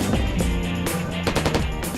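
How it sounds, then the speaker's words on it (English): A GPMG general purpose machine gun firing at target practice: a loud, rapid burst of sharp, closely spaced reports with ringing echoes, heard alone without talk. "On the GPMG, General Purpose Machine Gun. Capable of 200 rounds per minute."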